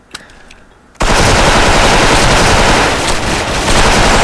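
M4A1 rifle fire in a shooter game: after a quiet second, a loud sustained burst of rapid automatic shots runs without a break to the end.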